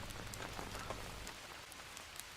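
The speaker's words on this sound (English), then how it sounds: "Let it fill up with the rain." Steady rain pours down in the Green Hell survival game, a dense continuous hiss of drops pattering on surfaces, with a low rumble fading out about halfway through, heard alone with no voices.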